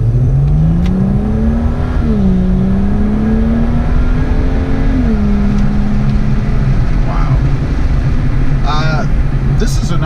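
A BMW 135i accelerates on twisty roads, its exhaust giving a loud, close, rising engine note that climbs, dips at gear changes, and climbs again. A voice speaks briefly near the end.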